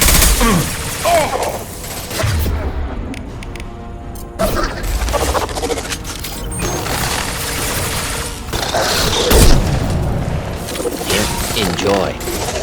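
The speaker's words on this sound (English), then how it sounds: "Firing a high-impact shot!" Gunfire from a high-impact weapon in the Mass Effect 2 video game rings out as loud bursts and crashes, mixed with mechanical clatter and game sound effects across the whole stretch.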